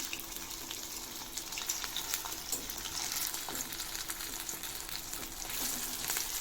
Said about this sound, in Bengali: একটা একটা করে পাল্টে নিচ্ছি এগুলোকে ভালো করে ফ্রাই করে নিতে হবে